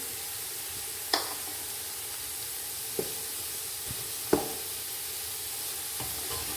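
Grated carrot halwa roasting in desi ghee with egg added, a constant soft sizzle and hiss broken by a few sharp spoon taps and scrapes against the pan, with no talking.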